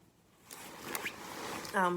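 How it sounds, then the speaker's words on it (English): A zipper on a child's coat is pulled open in a short, close rasp, with faint handling noise around it and a brief tonal squeak near the end. "just opening it up so you can see it. I like the zipper actually."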